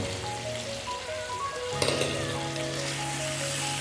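Steady sizzling of potatoes frying in hot oil, continuous and close, with a few small clatters partway through.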